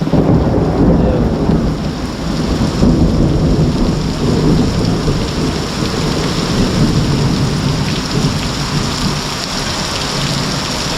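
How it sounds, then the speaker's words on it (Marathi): A heavy thunderstorm over a Konkan village: driving rain roars loudly and continuously while deep thunder rumbles beneath it, with no voices. "एकदम जोरदार पाऊस पडतोय तुफान हे बघा आता काढाडेल परत वीज चमकली"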